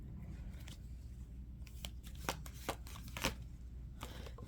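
Tarot cards are shuffled up close, giving quiet papery riffling and several sharper snapping clicks toward the end over a soft, steady background, with no one speaking.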